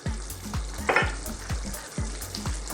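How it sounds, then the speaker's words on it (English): Fresh chili goes into a sizzling tomato curry for fish steak curry, with steady close frying crackle, a brief louder hiss as the pieces hit the pan and stirring scrapes, and no voices. "at this stage, I'm going to add some fresh chili"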